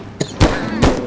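Gunshots fired at Bigfoot in a hunting video game, three loud, close, booming cracks spaced a fraction of a second apart, with faint speech-like sound in the background.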